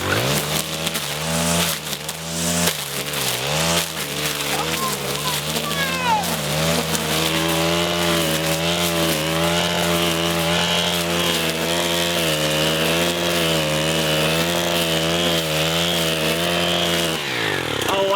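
A Stihl FS 251 R four-stroke brush cutter runs at high revs right up close, a loud continuous engine whine that rises and dips with the throttle before cutting off near the end, with someone talking over it.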